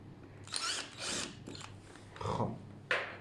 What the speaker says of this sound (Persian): یک مته با یه مته بزرگتر یه سوراخش میزنیم